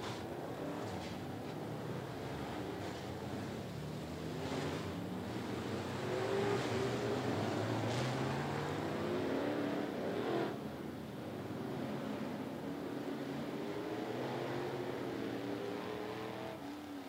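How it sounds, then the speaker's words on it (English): Sportsman Division race cars under green flag at 411 Motor Speedway: a continuous engine roar with rising and falling revs as the pack passes, heard from a distance with a steady background rumble. "we're going to go green flag racing in the Sportsman Division"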